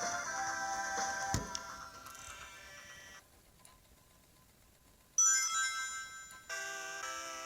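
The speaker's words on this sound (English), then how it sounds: "you hear the Sega chime from the BIOS" Startup chime of the Sega CD Model 1 BIOS, a bright synthesized tone sequence with a pause partway through and then louder resonant notes, heard faintly and without any talking.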